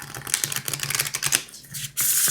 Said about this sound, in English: I'm going to shuffle them again and I'm going to show you.